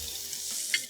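A brief stir of a poha and onion mixture in a hot pan, with a soft sizzle and a scrape of the spoon, close and alone.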